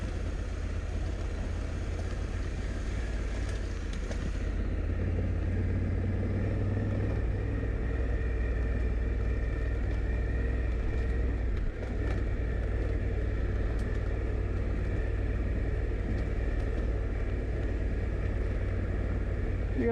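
Honda Africa Twin DCT motorcycle descending an off-road hill, its engine a steady low rumble close by, mixed with wind buffeting and faint crunches of the trail, continuous throughout.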